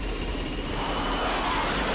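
Spacecraft engines firing in Interstellar, a continuous broad roaring rumble with steady loudness throughout, deep and full, with no voices over it.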